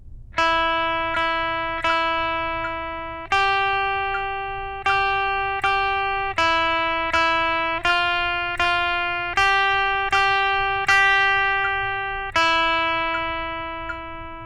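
Single plucked notes ring out one at a time in a slow, even rhythm, each decaying before the next, switching between a few pitches, clean and close.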